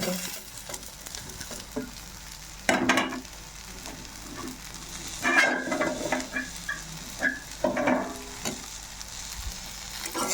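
Fried potato pieces and green chilies are stirred into sabu khichuri in a pan, with irregular bursts of scraping and clattering over a steady frying sizzle.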